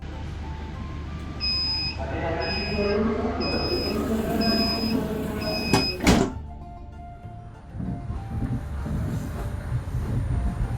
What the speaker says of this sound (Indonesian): Hati-hati, pintu kiri akan ditutup